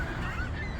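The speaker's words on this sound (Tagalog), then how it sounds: "ang ingay ng mga ibon." A flock of noisy birds honks in a dense, continuous clamor, loud and close, filling a brief moment outdoors as the sky darkens.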